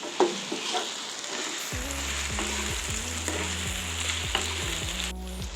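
Pumpkin pieces frying in a pan with salt, a steady broadband sizzle running throughout, joined after the first couple of seconds by repeated low scraping strokes of a spatula stirring against the pan.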